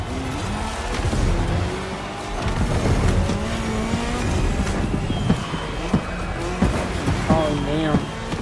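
Racing car engine in The Crew Motorfest video game, a revving, shifting motor with tire squeal during a Red Bull speed clash event, rising and falling in pitch with sharp ticks near the end, under a voice talking.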